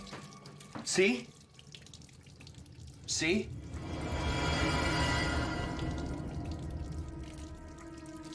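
Water running and dripping, apparently from a tap into a sink, with two short bursts of a voice speaking early on, then a steady soft splashing stream that swells and lingers.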